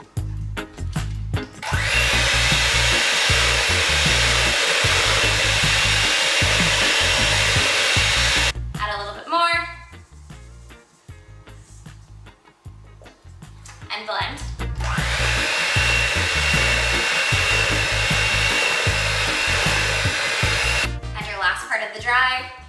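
An electric hand mixer whirs loudly and close while blending a Jamaican chocolate chip plantain bread batter, running in two long steady stretches broken by a quieter pause with scraping and clinks.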